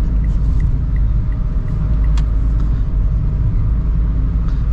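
A 2025 Mitsubishi Mirage G4 with manual transmission driving along, heard from inside as a steady, loud low road and engine rumble with a few faint clicks.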